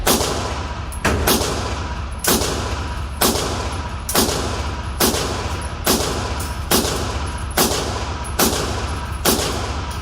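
An M&P Shield pistol fires a full magazine of eleven rounds at an outdoor range, steady shots about one second apart, each a sharp report with a quick decaying echo.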